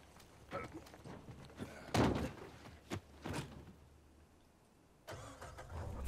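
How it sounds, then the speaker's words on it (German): In the video game Uncharted 4, a car door thunks shut and an engine cranks and starts, quiet and distant, with soft ambient noise between the sounds. "Na gut, steigen wir ins Auto und fahren weiter."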